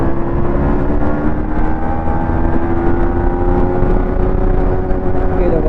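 Yamaha MT-15 motorcycle pulling hard in third gear toward about 90, a loud continuous engine whine rising slowly in pitch over wind roar, recorded close from the rider's position.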